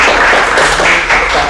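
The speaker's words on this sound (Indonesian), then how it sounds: "Serius sih, tepuk tangan dulu dong." An audience applauds during a talk about Surabaya. The clapping is dense, loud and close, and fills the short stretch.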